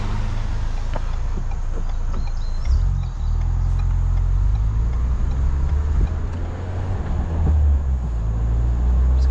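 A 2021 Ford Bronco on off-road tires drives along a road, heard from inside the cabin. A steady low engine and tire rumble runs with continuous road noise, and a few faint bumps and clicks sit over it.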